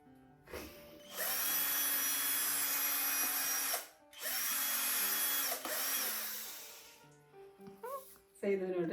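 Power drill boring holes in PVC pipe for a home craft, two long, loud, close whining runs with a brief pause between, followed by small plastic clicks and handling noises, with speech around it.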